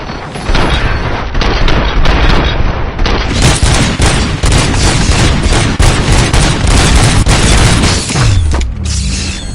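Heavy gunfire in Robocop: Rogue City, dense rapid bursts of shots and mechanical clatter, loud and close, sustained almost without pause, ending with a falling whine.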